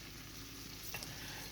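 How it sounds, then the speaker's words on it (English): Skillet potatoes cooking down in a pan with a little water over low heat, giving a steady, soft sizzle and hiss throughout with a faint stir or clink near the middle. "I pour a little water in the bottom of the pan, turn it down low, and just let it cook down until the potatoes are soft"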